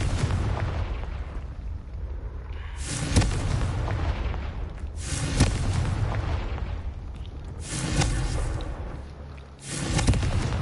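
Repeated booming spell blasts from the Confringo fire spell in Hogwarts Legacy, several loud broadband bursts a few seconds apart over a dense, rumbling game soundscape.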